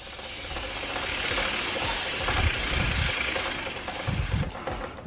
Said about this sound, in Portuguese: Eu rodo a relação da moto